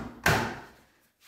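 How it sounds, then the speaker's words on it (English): The door of a Samsung Series 6 EcoBubble washer dryer is pushed shut with a single firm thud and latch click, close and brief, followed by quiet. "Now close the door"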